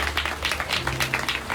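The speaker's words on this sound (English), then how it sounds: "Give them a round of applause," An audience at a day retreat breaks into steady applause, a dense wash of claps at moderate volume with no clear speech over it.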